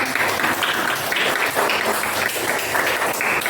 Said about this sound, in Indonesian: Ibu minta tepuk tangannya untuk kalian semua